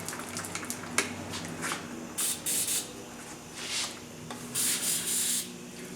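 Lubricant sprayed into a bicycle's brakes and brake lever in short hissing bursts, several in a row, close and fairly quiet, alongside soft rubbing and handling noises.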